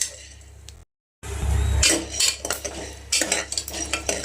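A spoon scrapes and clinks around a hot pressure cooker as sorghum grains are stirred over a high gas flame, with quick metallic rattles after a brief silent gap.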